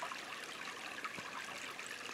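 Creek water flows where two creeks join on a rough trail in the Red River Gorge, a soft steady trickling and babbling, faint and continuous with no voices.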